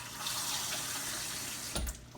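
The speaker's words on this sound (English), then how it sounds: "I'm going to put some water in the bottom of the pan here so the ham won't dry out." Water runs steadily into the bottom of a roasting pan holding a honey-glazed ham, a close, continuous splashing pour with a brief louder gush near the end.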